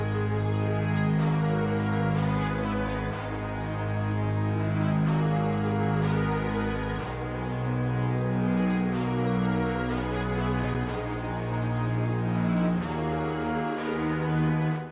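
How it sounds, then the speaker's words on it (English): Orchestral trap beat melody built in FL Studio, with layered patterns and a low strings preset pitched down to act as bass; sustained string chords and a deep bass line play steadily and loudly throughout, with no drums or voices. "And with the rest of my melody patterns, we got something that sounds like this."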